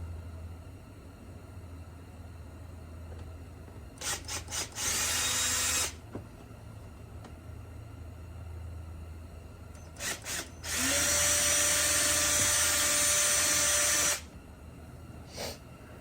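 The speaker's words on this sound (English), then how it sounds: "I'll hit it with a little drill bit very carefully." A small power drill with a tiny bit whines in bursts, a few short revs then a longer sustained run, with quiet pauses between, drilling holes in a Subaru Sambar cup holder.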